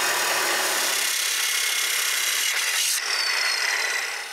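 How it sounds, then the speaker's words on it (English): A power tool cuts lengths of metal tubing outdoors at a metal workbench, a loud continuous grinding whine that runs steadily throughout and tails off slightly at the end. "The first thing I do is cut 4 lengths of metal tubing."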